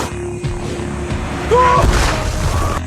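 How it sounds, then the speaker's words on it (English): A rocket explosion causing a landslide, a heavy booming crash that surges midway and rumbles on loudly, mixed with other effects in a dramatic action scene. "The explosion triggered a landslide."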